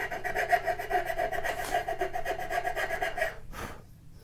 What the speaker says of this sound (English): I'm going to come back in here with a file and just clean up these edges.